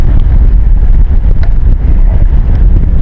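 Heavy wind buffets the microphone on a fishing boat during a drift with a fixed bobber rig, a loud, constant low roar with occasional gusty thumps and no speech.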